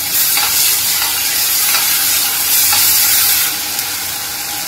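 Ginger, garlic and green chili paste sizzles loudly with soft, cooked tomato in a hot pan, a close, continuous frying hiss with faint stirring scrapes and no talking.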